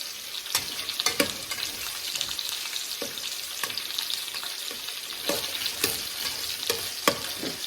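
Onions sauté in a pan, frying with a continuous bright sizzle while a utensil scrapes and taps through them at irregular intervals, close up and with no voices.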